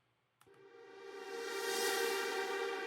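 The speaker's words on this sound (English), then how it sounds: "They're like synth one shots" A single synth one-shot in a progressive house track swells in after a brief click, a sustained harmonic tone that grows brighter and louder toward its peak, heard alone and fairly quiet.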